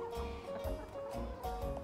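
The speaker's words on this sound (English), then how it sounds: "These are my 4 chickens." Chickens clucking softly close by, short repeated calls over a low hum, with a few louder bursts.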